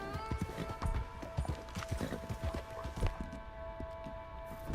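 A horse in Red Dead Redemption 2 clip-clops steadily at a walking pace, close and clear over a humming game background, with soft snorting and no talking.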